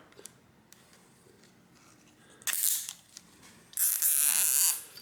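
A cable tie is pulled tight in two quick ratcheting zips, each a bright rasping burst lasting under a second, close by against a quiet background.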